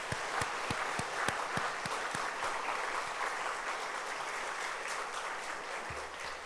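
A church congregation applauds together at a Sunday worship service in honor of a pastor, a steady dense wash of clapping with a few sharper nearby claps, moderately loud and sustained throughout.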